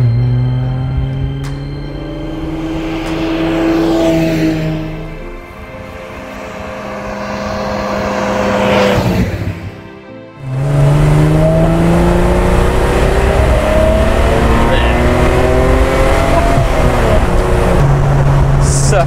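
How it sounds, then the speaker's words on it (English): A 1968 Mercedes 280SL Pagoda W113 engine roars close up under hard acceleration, rising in pitch through gears with a short dip near the middle, then climbing loudly again. "that is just raw engine noise"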